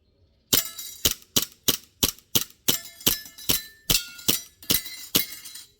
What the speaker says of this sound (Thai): บีบีกันเพื่อนๆกล็อกสิบเจ็ดนะครับ เจนสามนะครับ นี่ อ่ะ ยิงอะไรเล่นขำๆนะครับ